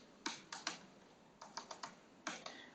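Keys on a computer keyboard clack in short, light bursts: a few quick strokes, a pause, a run of four or five taps, then two more, close and fairly quiet.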